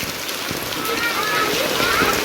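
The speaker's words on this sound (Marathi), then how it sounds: "हे बघा किती जोरात पाऊस आला जबरदस्त पाऊस" Heavy rain pours through a green net over wedding pandals during an unseasonal storm, a dense, steady hiss of drops hitting surfaces throughout, close and loud, with faint voices mixed in.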